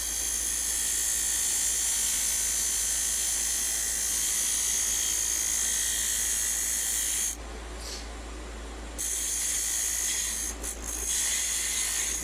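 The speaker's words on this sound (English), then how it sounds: "So we're going to start by coming in with a skew chisel." On a wood lathe, a chess pawn is cut with a skew chisel, giving a steady, loud spinning hiss and whine that dips briefly partway through and then resumes.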